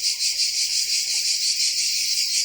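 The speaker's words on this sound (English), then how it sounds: "But, yeah, I like these crickets." Crickets chirp outdoors in a dense, continuous high trill that pulses steadily throughout, with no voices and only faint low background rumble.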